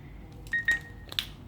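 A Galaxy Watch gives a brief, faint electronic chime for an incoming message, one short tone followed by a quick bright ping in a quiet room.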